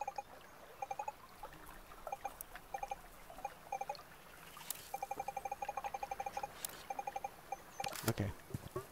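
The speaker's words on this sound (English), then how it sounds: "Let me get a picture." Repeated camera shutter clicks from taking photos in the video game TOEM, bright short snaps scattered over a bed of light ambient game sound and background chatter, with a denser burst of clicks near the end.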